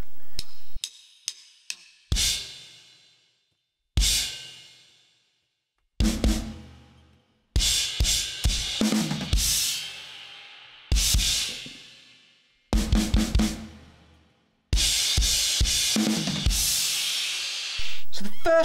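Drum kit plays the stab section of a song: sharp accented hits with crashing cymbals, some choked short and others ringing out, separated by gaps of silence, loud and close.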